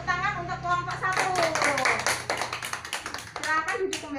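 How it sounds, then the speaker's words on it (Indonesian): A classroom of students claps for a group of presenters in a lesson, a dense, lively round of applause close by with children's voices mixed in. "Tepuk tangan untuk kelompok 1."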